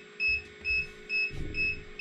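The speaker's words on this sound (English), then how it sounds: "That beeping is just letting us know that the air is getting out and that the temperature is going down." Amazon 16-egg incubator beeping as its temperature drops, a regular series of about five short electronic beeps in a steady rhythm over a faint hum, close by.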